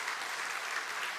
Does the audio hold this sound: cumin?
no